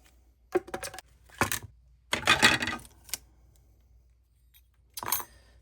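A mini blossom die-cutting machine cranks a shimmed sandwich of sticky tape and heavy cardstock through in several separate bursts of rattling, grinding clicks, close and moderately loud, with short quiet gaps between passes.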